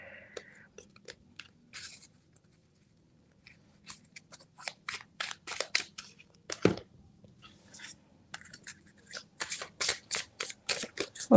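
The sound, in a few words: tarot cards being gathered and shuffled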